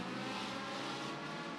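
Legend race cars roar around an oval track at Beckley Motor Speedway, a dense, sustained engine drone heard faintly and at a distance with no voices over it.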